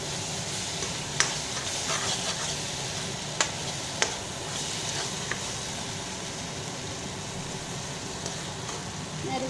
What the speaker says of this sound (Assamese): সৰিয়হ নৰসিংহখিনি ভাজি লৈছোঁ।